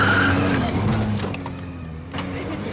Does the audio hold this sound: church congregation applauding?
no